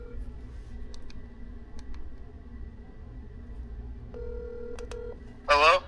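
A phone call on speaker from a Sunbeam Juniper dumb phone, with a quiet tone pattern and dial-like beeps near the end over background room noise, then a brief louder burst.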